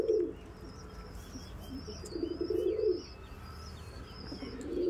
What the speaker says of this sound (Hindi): सारे हाई फ्लाई कबूतर ही हैं,